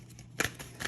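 Tarot cards being shuffled by hand, a couple of quick riffling bursts over a quiet room with no talk.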